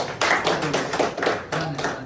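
People clap together in a clinic treatment room, a dense steady burst of applause lasting a couple of seconds.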